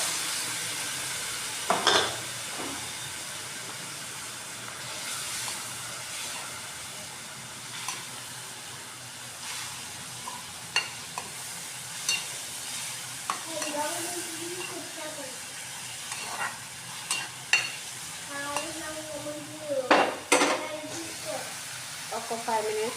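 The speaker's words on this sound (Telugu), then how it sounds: "దీంట్లోనే మనం మామిడికాయ ముక్కలు అనేది వేసుకుందాం." Raw mango pieces go into a hot pan for a mango and fish curry, bringing bursts of sizzling and frying hiss, scraping stirs and clatter from the utensil, while someone speaks intermittently over the cooking.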